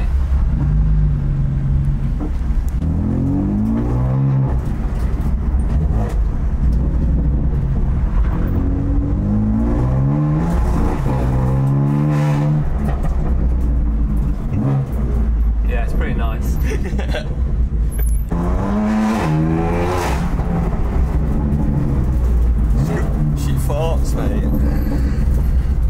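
A BMW M2 race car engine drones and revs in repeated rising sweeps as the car drives, loud and up close, with people talking over it much of the time.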